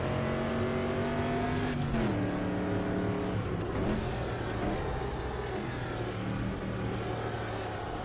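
A super truck's racing engine in Automobilista drones loud and steady, with pitch falling and rising as it downshifts and revs through corners over eight seconds.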